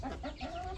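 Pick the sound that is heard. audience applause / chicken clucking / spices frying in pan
chicken clucking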